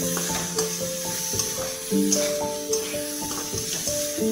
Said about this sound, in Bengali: এক দু মিনিট একটু নাড়াচাড়া করে ভেজে নেব এটা।